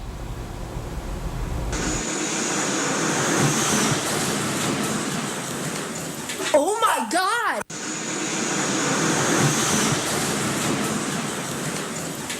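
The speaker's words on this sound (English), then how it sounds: "You can hear the jet engine going by." A loud roaring rush of a low-flying jet plane's engine swells past overhead during a crash while a woman cries out in shock, with a brief whistling sweep near the middle.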